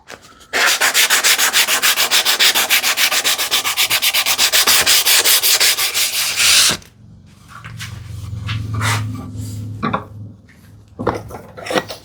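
Rapid, loud back-and-forth sanding of a wooden desktop organizer with 320 grit sandpaper runs for about six seconds, then stops, followed by quieter handling and tapping.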